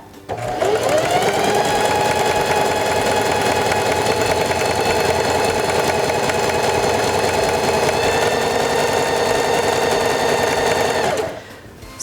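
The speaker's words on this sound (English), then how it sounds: "begin sewing again" Singer Heavy Duty 4411 sewing machine stitching fabric, a loud, fast, steady mechanical whir that starts within the first second, holds for about ten seconds alone, then stops.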